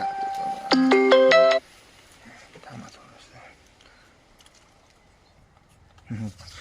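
A melodic phone ringtone plays loudly for about a second, then cuts off, followed by quieter background sounds and voices.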